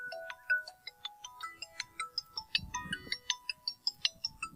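A phone ringtone plays a bright, rapid electronic melody of repeating chirpy notes, loud and close, with a brief rustle partway through.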